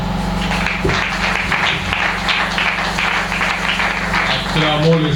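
A church congregation at a Sunday service applauds and cheers for the Lord. Continuous clapping and shouting stay fairly loud and close the whole time, over a steady low hum, with a voice rising near the end.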